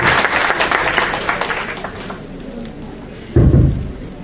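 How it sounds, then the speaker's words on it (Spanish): An audience at a legal workshop on registry law applauds a speaker, a busy burst of clapping that thins out midway, followed by a sudden low thump near the end. "Un fuerte aplauso para el expositor, el doctor Aparicio Rojas"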